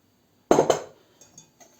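A couple of sharp clinks against a bowl, then softer scraping taps, like a utensil stirring oil into cheese doughnut batter in a dish.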